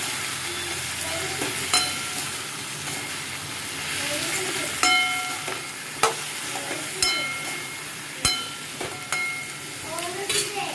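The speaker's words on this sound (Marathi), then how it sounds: "मस्त कांदा आणि वांग मस्तपैकी एक करून घ्यायचं" Onion and eggplant stir-fried with salt and turmeric in a pan for a Maharashtrian eggplant curry: steady close sizzle with scraping stirs and sharp utensil clinks against the pan, no talk.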